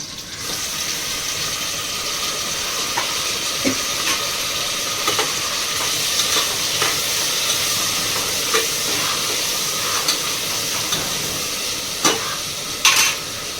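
Tomatoes cooking in a hot pan for khichdi give a constant loud sizzle, with intermittent light stirring clicks and scrapes throughout and a sharper clatter near the end.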